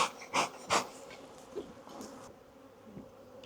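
Honey bees from a defensive hive buzz close by in a few loud rising drones that fade into a softer hum around the hive.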